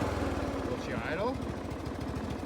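A John Deere L100 lawn tractor engine idles steadily at close range with a constant low rumble, while a person talks over it briefly.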